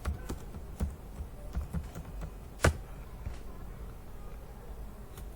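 Light typing on a computer keyboard as an accounting entry is keyed in: scattered soft taps with one sharper, louder keystroke midway, all close and fairly quiet, with no voices.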